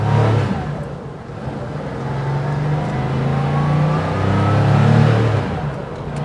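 1992 Porsche 911 (964) Carrera RS Clubsport warming up, a loud continuous flat-six drone with a gently rising and falling pitch as revs shift, heard up close and without voices.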